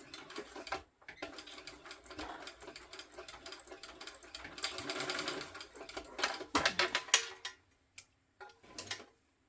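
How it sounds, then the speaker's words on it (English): A sewing machine stitches across a small tab and the two parts of a sling bag's strap connector, a close, steady whirring run of needle ticks that stops and starts in short bursts. "sew over that little tab and the two parts of the strap connector"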